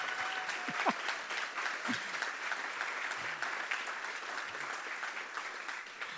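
Audience applause at an education and AI summit, steady clapping from a room full of people, moderately loud and sustained for several seconds without talk.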